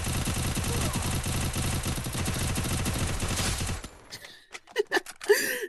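Gunfire in a mobile shooter game: a rapid, sustained stream of shots runs loud and dense for several seconds, then breaks into a few separate sharp bursts and other game sounds near the end.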